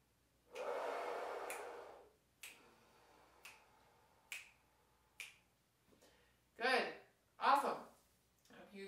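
A breathing exercise for wind and brass players: a long, strong inhale, then a series of short, sharp exhale pulses, followed by two more forceful breaths, all close and alone in a quiet room.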